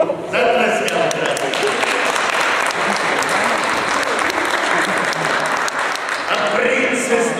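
A crowd breaks into loud, continuous clapping that fills the whole stretch, steady and close, with some voices mixed in beneath the applause.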